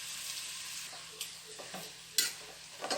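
Onions sautéed with salt in a pan sizzle quietly and steadily while a spoon stirs, making occasional soft scrapes and one sharper clatter, no talking.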